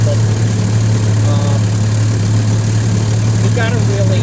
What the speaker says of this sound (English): So these were darn good engines.